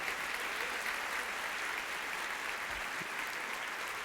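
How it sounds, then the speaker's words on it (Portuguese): Steady, dense applause from an audience in a church, a continuous wash of clapping at moderate level with no talk over it. "Esse aplauso está meia boca, viu? Pode ser muito melhor."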